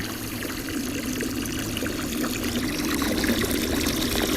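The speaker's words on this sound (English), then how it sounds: "It's only a 1/16 of water left on that line, and it's still pumping." SMARTBOT 4200 GPH mini utility water pump pulling water down to a shallow film, a steady close gurgling and trickling wash with a constant pump hum beneath, unbroken for several seconds.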